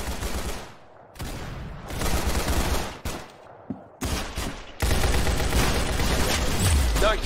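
Rapid gunfire in Roblox Arsenal comes in repeated loud bursts with short gaps between them. The last stretch is a sustained, dense volley, and no voices are heard.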